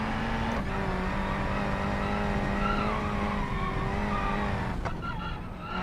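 A race car braking hard on a circuit track in BeamNG, with a sustained engine drone and a faint tire squeal held steady for several seconds, loud and close.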